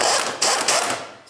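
Ratcheting wrench tightening a bolt on the fuel tank strap of a 1999-2003 Toyota Solara, a few quick close metallic clicks and rasps in a short burst with no talking.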